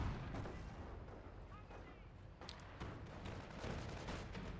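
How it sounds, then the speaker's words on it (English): Howitzer artillery rumbles in the Company of Heroes strategy game, heavy low booms and battle noise rolling continuously under a commentator's voice. "Howitzer doing a little bit of base damage, but nothing really on that push"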